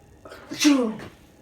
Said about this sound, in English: It's just a regular sneeze.